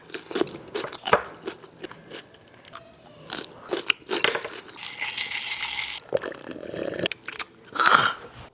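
Close, crisp crunching bites and chewing of a raw cucumber at a hot noodle mukbang, irregular loud crunches with wetter chewing between them, no talking.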